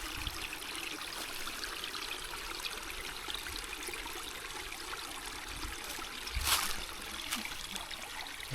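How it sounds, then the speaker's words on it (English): A small stream trickles over rocks in a forest along the Appalachian Trail in Connecticut, a steady, soft babbling flow with one brief louder splash near the end. "Up on this little stream"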